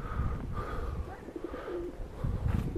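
Pigeons coo in soft, low, rolling calls, repeated a few times outdoors in a garden setting with faint background noise and no talking.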